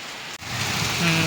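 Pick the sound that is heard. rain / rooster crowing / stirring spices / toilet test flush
rain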